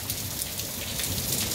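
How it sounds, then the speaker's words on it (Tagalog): Hail falls hard in Jordan in a dense, continuous rattle of pelting on surfaces, fairly loud and with no voices. "Biglang umulan ng ice or cube."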